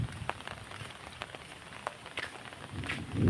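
Konkan rain falling steadily on surfaces, close crisp patter with scattered sharper drop ticks and a soft rumble of wind swelling near the end.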